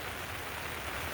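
Steady rain falls outdoors on a warm day, a soft continuous hiss of drops with no pauses and no voices.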